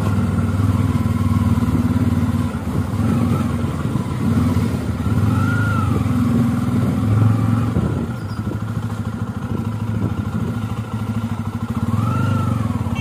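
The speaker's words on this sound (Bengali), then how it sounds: "এতদিন স্কুটার চালানোর পর এখন বাইক ধরে" A Bajaj Pulsar F250 motorcycle hums along on the road home, its engine droning steadily and rising and falling slightly with the throttle, with road rumble and clatter mixed in.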